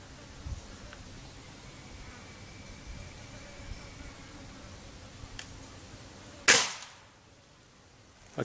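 A small calibre firearm fires one sharp, loud shot at target practice after a long quiet stretch with faint background noise.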